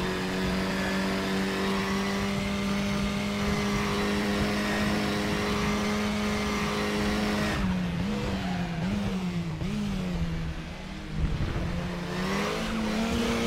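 KTM X-Bow RR race car in the sim racing game RaceRoom: a loud, steady high-pitched engine whine that holds at constant revs, then drops and climbs again as the throttle comes back on, with no voices.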